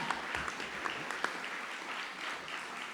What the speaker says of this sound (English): Can you clap real quick?